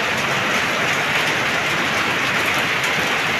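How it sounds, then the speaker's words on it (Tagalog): Heavy rain pouring down in Tacloban amid strong wind, a dense, steady roar of rainfall hitting surfaces, loud and continuous with no talk. "Biglang pagulan kagaya nitong nangyayari."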